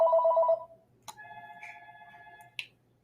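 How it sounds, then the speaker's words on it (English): A phone rings with an incoming call during a fantasy sports live stream: a short burst of electronic ringing, then a softer sustained tone with two sharp clicks, with no talk over it. "I know it's like Call from phone just keeps ringing here."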